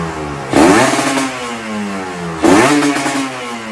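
Kawasaki Ninja RR two-stroke motorcycle fitted with an RS-1 exhaust, revved twice: each blip rises sharply then falls away in a raspy, crackling wail, loud and close.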